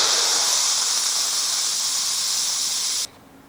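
Steam blasts hard and steady from a pressure cooker's release valve as sweet pork finishes cooking, a loud continuous hiss that cuts off abruptly near the end, leaving quiet.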